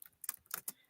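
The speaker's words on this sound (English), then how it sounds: "We're typing that out for you." Quick bursts of computer keyboard typing, about four clustered clicks over under a second, faint and close, with no talking.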